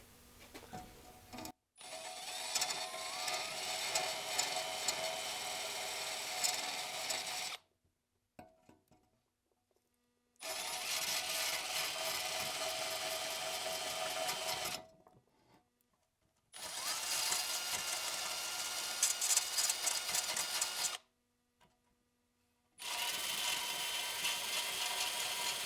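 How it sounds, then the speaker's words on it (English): A power drill runs in four long bursts separated by silent gaps while flattening a catch can part for a BMW E34 M50 turbo build, giving a steady, moderately loud whirring with slight grinding. "the drill should work."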